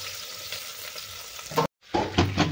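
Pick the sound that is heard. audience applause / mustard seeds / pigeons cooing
mustard seeds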